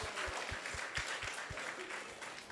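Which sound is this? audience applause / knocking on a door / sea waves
audience applause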